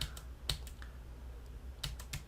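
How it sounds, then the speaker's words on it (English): Keyboard keys tapped at random, the W, A, S and D keys, giving a few sharp separate clicks with quiet gaps in between, close and fairly faint. "I'm just hitting the WASD keys in random succession here."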